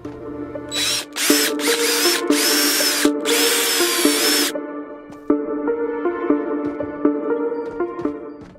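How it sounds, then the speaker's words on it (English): A video game power drill whirs in several short, loud bursts as screws are driven, then stops, leaving a steady hum of background music. "Alright, now to drill the screws in."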